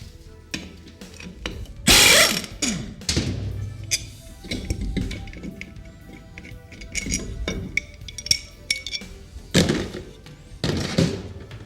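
Metallic clinks and clunks of a ratchet removing 15mm tail housing bolts during a transmission rebuild, with a few louder ratcheting bursts and scrapes, close up and irregular, no talking.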